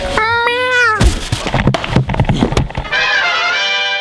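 A person imitates a cat in a busy public IKEA store, giving drawn-out wavering meows at the start and again at the end. Noisy bustle and clattering fill the gap between them.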